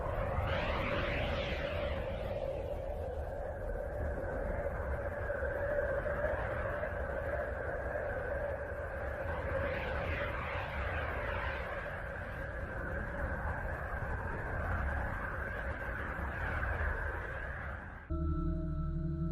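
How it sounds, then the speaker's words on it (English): An eerie sonified space recording, presented as the sound of Uranus, gives a deep rumbling drone with slow, sweeping whistle-like tones rising and falling in waves before it cuts off abruptly near the end. "The voice of Uranus."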